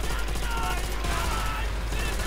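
Loud, dense bursts of explosions and gunfire-like blasts as trucks explode in the video game Call of Duty: World at War, crackling continuously with a heavy low rumble underneath.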